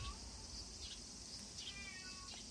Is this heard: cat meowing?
yes